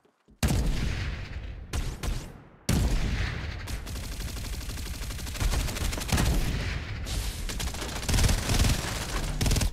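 Dense gunfire from the Farlight 84 video game: rapid automatic bursts and sharp shots pile into near-continuous loud fusillades, with brief drops to quiet between them.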